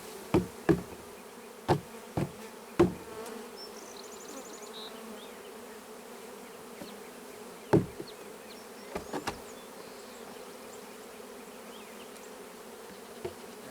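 Honeybees buzzing steadily as they are knocked from a box into a hive, a dense continuous hum punctuated by several sharp knocks and thumps against wood, close by and without talk.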